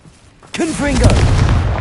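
A blasting spell cast in Hogwarts Legacy on PlayStation 4 Pro, a single sudden burst partway through that swells into a loud, sustained rumbling blast with magical whooshing layered over it, close and forceful.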